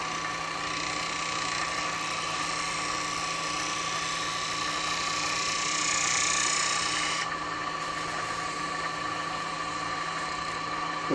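A wood lathe spins an ash bowl while a bowl gouge cuts it, giving a steady, continuous mechanical whine with a constant tonal hum and a broad cutting hiss that holds unbroken throughout.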